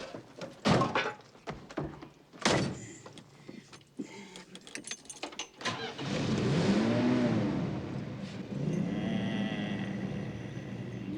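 An old car in a 1987 film soundtrack, first several thunks like doors and handling, then the engine starts and revs into a sustained, rising growl that stays loud and steady.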